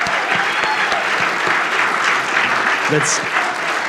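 Audience applause at a comic convention panel, a steady wash of clapping from a crowd heard throughout, with someone briefly speaking over it.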